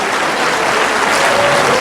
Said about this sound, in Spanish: El que crea esto, dale un aplauso al Señor.